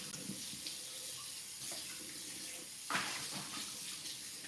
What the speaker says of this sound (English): We are actually going to rinse this out.